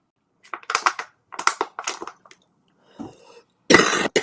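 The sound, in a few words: cough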